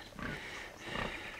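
A pig grunting in a forest scene from a 1979 comedy film, with two rough, close grunting bursts in quick succession and no speech.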